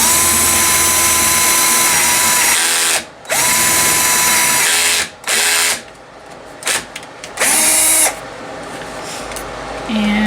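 A power drill bores rope-handle holes through two clamped wooden boards, loud and close, with its motor whining in several long runs that stop and start again between short pauses.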